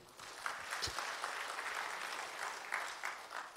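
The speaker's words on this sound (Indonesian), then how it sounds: "Berikan tepuk tangannya." A church congregation at an Indonesian GBI service applauds, a soft, distant wash of clapping that carries on evenly with a few louder swells.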